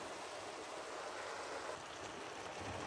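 Water poured into a tomato purée tin to rinse it for a bolognese sauce, a soft continuous splashing trickle, faint and steady for a few seconds, with no voices.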